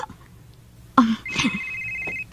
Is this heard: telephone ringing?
yes